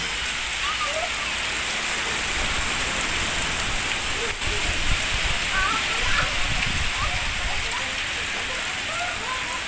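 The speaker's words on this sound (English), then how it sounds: "This morning it's been sunny day and it's just a rain when we arrive here." Steady rain falls at a cold mountain resort, a constant broad hiss with scattered drop patter filling the whole stretch, close and fairly loud, with faint bird-like chirps and no clear talk.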